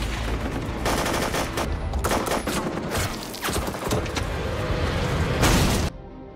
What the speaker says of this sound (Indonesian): baku tembak pun dimulai.